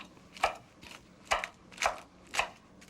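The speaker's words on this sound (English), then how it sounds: "Let's go and cut the escarole. The escarole, I like it like this, in sort of ribbons or shreds, or julienne" A kitchen knife slices escarole into thin ribbons on a cutting board, four distinct crisp chops spaced about half a second apart, close and fairly quiet with no talking.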